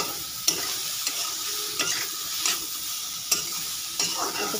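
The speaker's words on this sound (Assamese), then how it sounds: "ধুনীয়াকৈ ফ্ৰাই কৰি ল'ম বেঙেনাখিনি।" Eggplant pieces frying in oil, a bright steady sizzle broken by a handful of sharp spatula clicks against the pan at irregular intervals, close and without talk.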